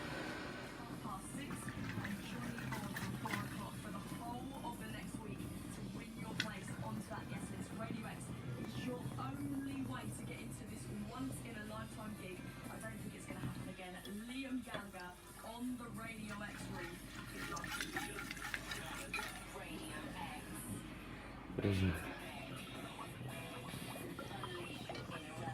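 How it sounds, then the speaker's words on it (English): During a Bohemian lager brew day, water runs steadily through a wort chiller, a faint continuous flowing and trickling with a brief louder splash near the end. "So we'll keep running the water through and see if we can get down to the 10 degrees."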